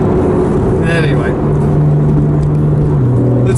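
Porsche 911 Carrera engine idling and humming steadily close by, a sustained low drone with a brief shift in tone partway through and a voice speaking over it.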